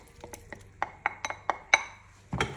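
Tuna dropped into a pan of linguine with olives and cherry tomatoes with the heat off, giving a run of light clinks and taps of utensil on pan and glass, followed by a louder stirring scrape near the end.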